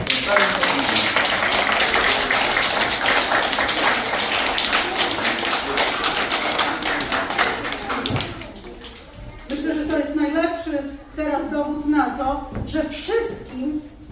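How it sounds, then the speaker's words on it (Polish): An audience applauds children who have recited poems at a Polish poetry event, a steady wash of dense clapping that then breaks off, followed by voices talking nearby. "Wielkie brawa jeszcze raz"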